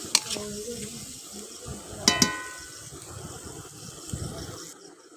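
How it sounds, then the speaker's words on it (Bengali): Spice paste with added water stirred in a pan with tongs while cooking fish curry: soft simmering sizzle with a few sharp metallic clinks of the tongs against the pan. "এবার মশলাটা ভালো করে কষিয়ে নিতে হবে সঙ্গে দিলাম কিছুটা জল চিমটির সাহায্যে নাড়ছি"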